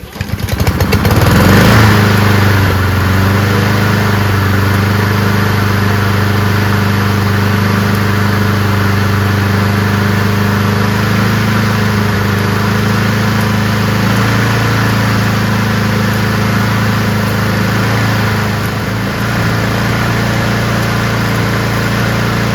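A Honda lawnmower engine runs loud and close at a steady idle, its low, even drone holding throughout with a brief rise in pitch near the start and a slight dip toward the end.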